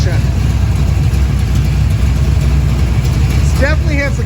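A 1975 Pontiac Firebird Trans Am with a 455 engine, cammed and fitted with performance headers, idles with a steady, loud low rumble that fills the whole stretch, and a few voice-like tones creep in near the end.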